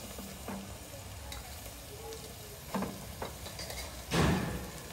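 Mutton for a curry fries quietly in a pan, with a low sizzle and occasional scrapes of a spoon stirring it, faint and close with a louder clatter near the end.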